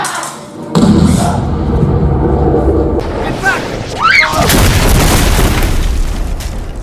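Cannons fire on a sailing ship during a Treasure Island pirate audio drama, with heavy booms and thuds rolling out over a dense battle backdrop of shouting voices and sea noise.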